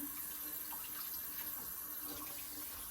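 Steady running water from a faucet splashing into a sink while hands are washed, continuous and close, with no voices.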